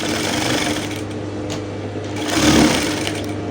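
Sewing machine running steadily while stitching the flounce hem of a dress, a close, continuous mechanical whir with a brief rise in loudness near the end and no talking.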